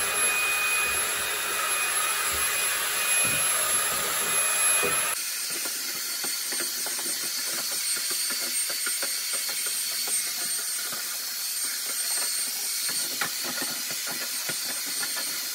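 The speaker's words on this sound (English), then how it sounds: "get your vacuum cleaner to clean all of that dust out of the opening of the exhaust fan housing" A vacuum cleaner runs with a loud, steady whooshing hiss, sucking dust from a Broan bathroom exhaust fan housing; partway through its pitch and tone shift as the suction changes, continuing unbroken to the end.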